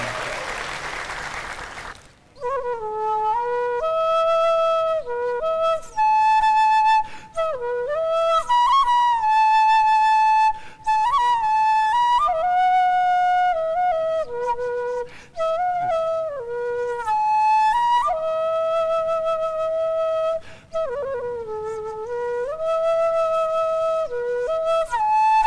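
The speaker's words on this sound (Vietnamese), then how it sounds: "Tiếng sáo là réo rắt lắm á nha" A flute plays a lilting solo melody of sustained, bending notes on a Vietnamese dating show, entering after a short burst of noise and carrying steadily and clearly with no talking over it.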